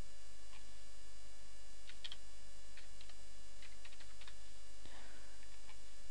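Code typed on a computer keyboard comes through as scattered, faint key clicks in short irregular bursts over a steady electrical hum, with no talking.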